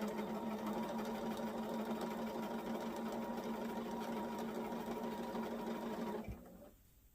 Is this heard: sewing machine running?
yes